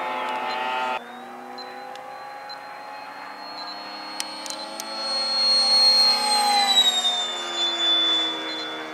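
Small engine of a model airplane at an airfield, whining steadily at high pitch as it comes in to land, with the note shifting and swelling in the closing seconds, heard fairly close and without talk.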